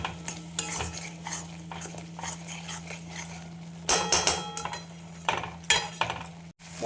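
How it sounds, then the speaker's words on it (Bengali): Spiced masala with turmeric and salt being stirred and fried in a pan, with steady scraping and clinking of a metal utensil against cookware, louder clangs toward the end, no voices. "দিয়ে দেবো হলুদ, নুন, মশলাটাকে কষিয়ে নেব।"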